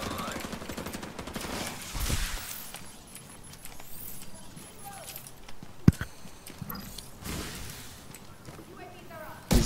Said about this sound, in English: I know, I'm shooting him back. I'm shooting him here.